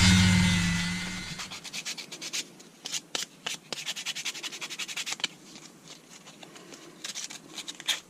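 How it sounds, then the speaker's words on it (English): Sandpaper rubs along the edge of a wooden knife sheath, a scratchy, uneven run of short strokes at close range with brief pauses, no one speaking. "Now I'm going to sand this a little bit to make this edge smoother."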